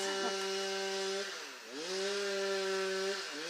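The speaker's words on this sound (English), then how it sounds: "You hear that chainsaw in the background" A chainsaw drones steadily at a distance during barn building, its engine pitch dipping once and then climbing back up.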